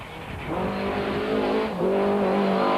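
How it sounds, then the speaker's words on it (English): A Toyota Conquest rally car roars past close by on a rally stage, its engine note climbing through a gear change with a loud, sustained revving blast and no voices. "Serge and Vito in their leading Toyota Conquest blast past the camera"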